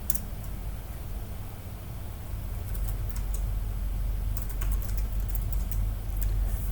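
Close, steady typing on a computer keyboard, a string of quick light key clicks in irregular bursts over a constant low hum, with no talking.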